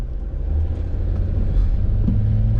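Cars pass at a traffic light on a busy street, a loud, close engine rumble that swells and carries on without a break, with a brief higher engine note rising near the end.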